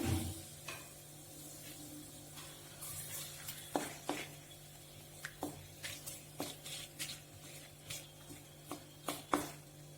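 Dry red chilli and bay leaves crackle softly in hot mustard oil in a kadai, with scattered quiet pops and stirring clinks over a low steady background hum, no talking.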